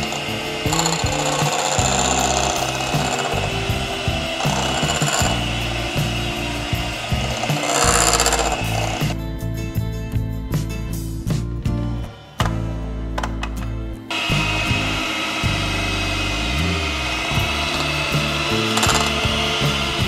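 An electric mixer beats red velvet cake batter, making a loud, continuous mechanical whir with rattling and scraping against the bowl that briefly eases midway before resuming.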